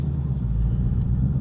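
A 2018 Ford Mustang GT cruising on the road, its engine and road rumble forming a steady, loud low drone heard from inside the cabin, with no talking.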